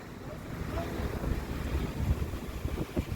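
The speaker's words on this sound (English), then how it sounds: "This wind's horrible." Strong wind buffets the microphone outside a gas station in Kentucky, a steady low rumble with gusty swells.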